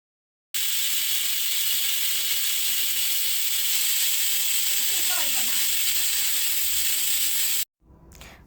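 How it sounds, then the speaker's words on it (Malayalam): A pressure cooker cooking egg curry gives off a loud, continuous hiss of steam that lasts about seven seconds and has a faint whistling edge. It starts and cuts off abruptly, and a short quieter noise follows the cutoff. "കുക്കർ അടച്ചു വെച്ച് 2 വിസിൽ വരുന്നത് വരെ കാത്തിരിക്കുക"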